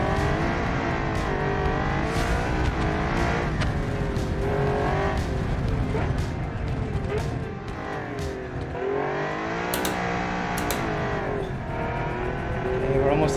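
A hypercar in the BeamNG driving game screams along at high speed into banked track, engine roaring steadily with pitch sweeps as it shifts and revs, brief tire squeal, loud and continuous throughout.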